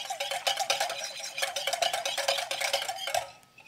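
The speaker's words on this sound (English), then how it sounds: "Go ahead and pour it in as you move the mixture around." Hot broth for Greek meatball soup is poured into an egg mixture while a whisk keeps it moving: fast, rhythmic clicking and scraping against the bowl that runs steadily and then fades at the end.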